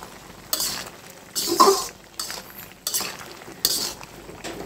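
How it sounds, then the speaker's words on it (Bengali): Hilsa and green plantain curry being stirred in a pot, with several bursts of scraping and clinking from a utensil against the pot between quieter stretches. "এখন আমি একটু নেড়ে ছেড়ে আরও 10 মিনিটের জন্য ঢাকনা দিয়ে রেখে দেবো"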